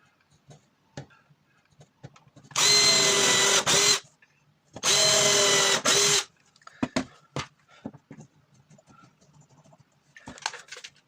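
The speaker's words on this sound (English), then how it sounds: "So I'm just drilling this, drilling some pilot holes for the screws to go into." A power drill bores pilot holes for screws in two loud, whining bursts of a couple of seconds each, followed by scattered light clicks and handling noises.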